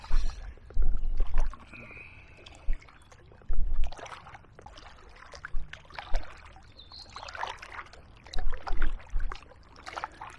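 A canoe paddling downstream on the River Medway, with irregular splashes and drips of paddle strokes, some louder dips near, over quiet flowing water and faint outdoor background.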